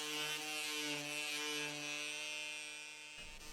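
Power sanding of the veneer on a Victorian sideboard: a steady, close buzzing motor drone with a constant pitch that runs without a break and then cuts off just before the end.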